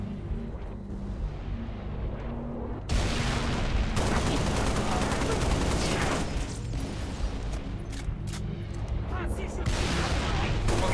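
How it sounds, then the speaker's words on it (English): A firefight in Halo Reach with an ODST mod, thick with gunfire and booming blasts. The noise swells abruptly after a quieter start and then rolls on dense and continuous for several seconds. "I didn't realize I was in the middle of a firefight"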